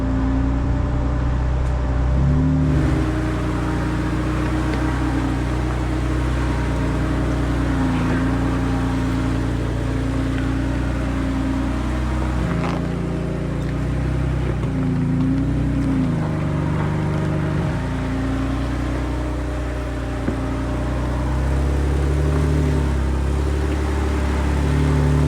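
A vehicle's engine drones steadily as it climbs over a steep off-road trail bypass on the Whipsaw trail, a continuous mid-pitched rumble with slight shifts in load and no talking.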